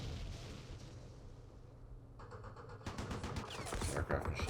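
Aircraft machine gun fire in a Vietnam-era Battle of Dak To war game, rapid crackling bursts building over a rumbling low explosion-like bed, growing louder toward the end.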